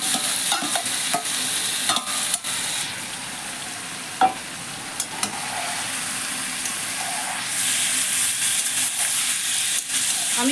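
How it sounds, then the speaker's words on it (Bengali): Chicken pieces go into a pan of deep-red fried onions for a chicken curry, giving a constant crackling fry with scattered scraping clicks of stirring. The sound is close and moderately loud, and no one talks. "এবার আমি চিকেনটাকে ঢেলে দিচ্ছি।"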